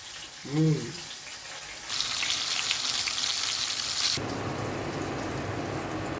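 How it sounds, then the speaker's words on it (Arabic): Fish coated in flour frying in hot oil in a home kitchen pan, a steady loud sizzle that swells suddenly and then settles into a lower crackle, with a short vocal sound near the start. "انا قليت السمك وبقى عالي العال"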